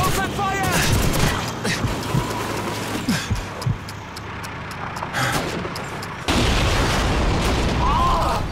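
Booming explosions and bursts of gunfire in the World War II game Call of Duty 2 rumble amid shouting voices around a tank, ending in a loud sustained blast that carries to the end.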